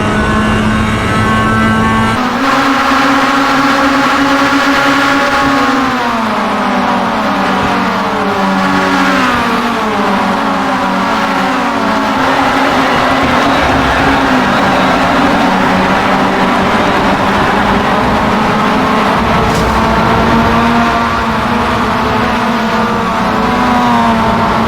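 Mazda MX-5 race car lapping Road Atlanta in iRacing, its engine loud and continuous, pitch dropping with downshifts into corners then climbing again under acceleration, with no talking.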